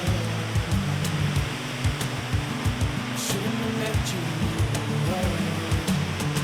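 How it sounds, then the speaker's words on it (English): Steady rushing water of a waterfall by a rocky creek on a mountain pass, a constant broad roar heard up close, overlaid by a low droning engine hum and intermittent voices. "Gotta love a waterfall like that."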